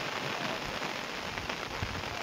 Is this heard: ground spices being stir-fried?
no